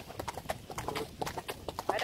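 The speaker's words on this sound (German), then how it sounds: "Und ich reite ihn jetzt, weil Alex" Steady clip-clop of hooves in an even rhythm, close by, with a voice speaking over the footsteps.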